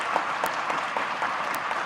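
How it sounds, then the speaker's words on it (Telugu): A political rally crowd claps loudly and steadily in sustained applause for about two seconds. "మీరందరూ గట్టిగా చప్పట్లతో ఆమోదం తెలపండి"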